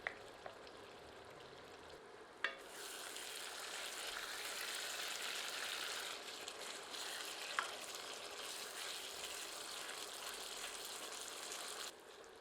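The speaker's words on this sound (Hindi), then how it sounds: "इसे हम तब तक भूनेंगे जब तक कि मसालों से तेल अच्छी तरह पृथक नहीं हो जाता।" Spiced masala frying in oil for a blood-red chicken curry gives a steady, close sizzle that runs almost unbroken, with a few sharp pops and spatters and no voices.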